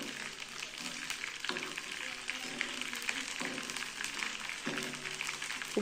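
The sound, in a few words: frying nylon sago pearls in hot oil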